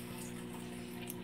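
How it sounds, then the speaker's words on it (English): Water runs into a turtle tank fitted with a filter, a soft, steady gush with a faint pump hum beneath it, close but quiet. "So now we can fill up the water a little bit higher and have that"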